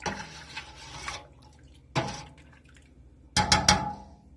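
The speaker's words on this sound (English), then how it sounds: "While it is heating up, I will stir it every once in a while" Milk being stirred in a pot while it heats for homemade mozzarella, giving three separate bursts of scraping and sloshing with quiet gaps between them, the last one brighter and clinking.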